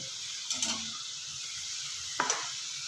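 Potato french fries frying in a pan on medium flame, with a steady faint sizzle and two brief stirring scrapes, one early and one near the end.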